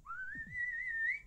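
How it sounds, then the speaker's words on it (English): A single long whistle tone from the video game Wolfenstein 3D wavers slightly and rises at the end, clear and steady with no talking over it. "All I can hear is like that whistle, like over and over again."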